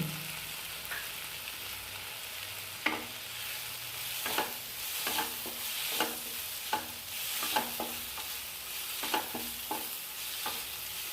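Colocasia fry cooks in a pan with dried chili powder and coriander powder, giving a continuous sizzle broken by repeated scraping and knocking as it is stirred, with no voices.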